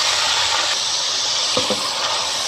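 Chopped tomatoes stirred into browned onions frying in a pan for a Pakistani lobia sabzi, a steady loud sizzling hiss with a couple of faint scraping knocks partway through, and no talk.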